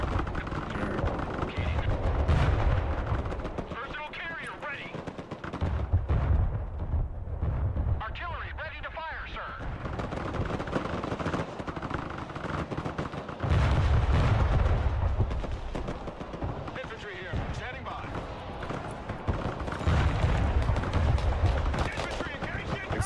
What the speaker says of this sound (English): I'm gonna open up with MLRS and then